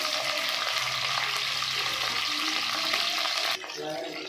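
Onions sizzle and fry in hot oil with cumin, mustard seeds and curry leaves for an egg curry, a loud, close, steady crackle that drops away abruptly near the end to a quieter stir.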